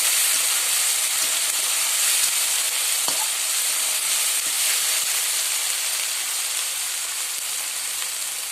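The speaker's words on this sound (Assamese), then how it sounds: "এতিয়া এইখিনি আমি ভালদৰে ভাজি কৰি ল'ম।" Seeds frying in hot oil in a pan, a loud steady sizzle with a few faint clicks of stirring.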